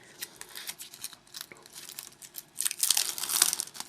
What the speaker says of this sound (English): we can peel off the plastic